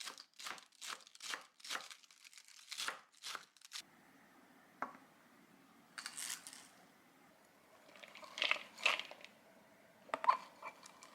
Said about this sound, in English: Chop the cabbage into thin slices.